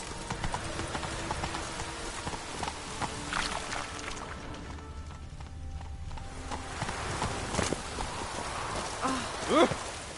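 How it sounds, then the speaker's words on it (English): Steady rain falling in The Witcher 3, a soft continuous patter mixed with horse hooves clopping nearby, under game voices talking. "Witches have conjured rain."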